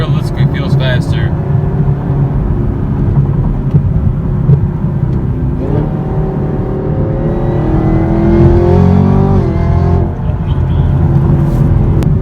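Car engine with a RotoFab cold air intake revving, a steady droning engine note that climbs in pitch with rising whine and intake rush, while someone talks over it throughout.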